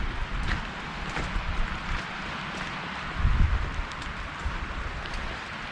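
Gusty storm wind roars steadily outdoors during a power outage, with a stronger low rumbling surge partway through and faint rustling noise layered on top.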